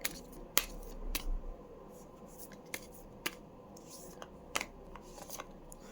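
Oracle cards being picked and handled during a tarot reading: soft papery flicks and sharp card snaps at irregular intervals, close and quiet against a faint room background.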